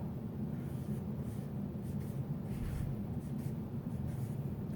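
A sentence written by hand, with soft continuous scratching of the writing tool across paper, faint and close under a steady low room hum.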